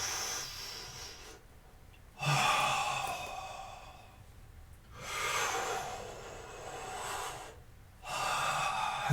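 Slow, deep breaths during a yoga session, long airy inhales and exhales close to the mic, each lasting a couple of seconds, in an otherwise quiet room.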